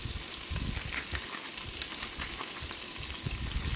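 Thinly sliced onion and bell pepper, seasoned with salt and pepper, fry in a Ninja Foodi PossibleCooker PRO with a steady close crackling sizzle and occasional sharper pops, no voices.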